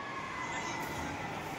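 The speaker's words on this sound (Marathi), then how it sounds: "आली ट्रेन आली" A small passenger train pulling into a dinosaur park, heard as a steady, loud rumble with a bright whine or horn-like tone running throughout, and no clear pauses.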